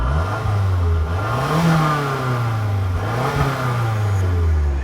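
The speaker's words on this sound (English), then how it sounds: "Wait, quickly give it a rev." A car looked over at an Australian car auction revs hard twice. Its mid-pitched engine climbs and falls with a raw, loud tone that suggests it lacks a proper exhaust, heard close up with no talk.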